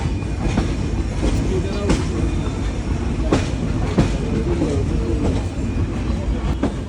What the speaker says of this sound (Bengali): এই মুহূর্তে আমাদের ট্রেন প্রবেশ করছে ভেড়ামারা রেলওয়ে স্টেশনে।